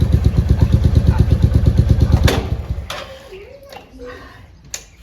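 A motorcycle engine thumps in a rapid, steady idle for a couple of seconds, then cuts off as a person starts talking.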